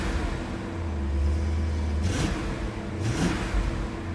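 BMW E39 M5 engine idling with newly fitted mufflers, a steady low rumble with two brief throttle blips rising and falling, close by.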